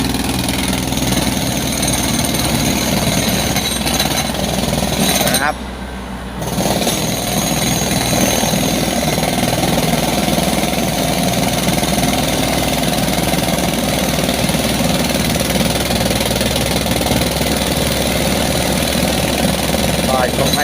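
Jackhammer pounding at a high-speed railway construction site where piles are being cut for pier heads, a loud continuous rattling racket over engine drone that drops out briefly midway, with speech around it.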